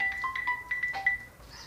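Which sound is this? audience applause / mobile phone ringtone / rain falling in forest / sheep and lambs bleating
mobile phone ringtone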